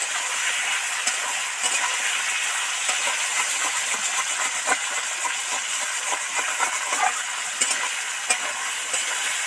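Potato, taro and tomato deep-frying in a very hot kadai, a loud continuous sizzle with scattered crackles and occasional spatula scrapes throughout.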